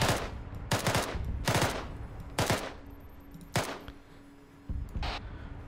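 Bursts of automatic rifle fire in Arma 3, aimed to suppress the occupants of a vehicle, come as six or seven sharp volleys spread evenly with short pauses between them, fairly close and loud over a low engine hum.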